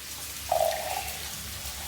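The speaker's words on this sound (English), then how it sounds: "now we just go add a bit of water" A brief splash of water is added to a pot of fish heads and vegetables, a short close pouring gush lasting about half a second over quiet room noise.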